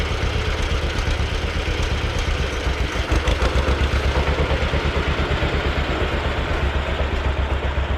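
A small engine on a wood splitter, leaking fuel, idles steadily with an even, rapid chugging pulse, close and continuous with no talking.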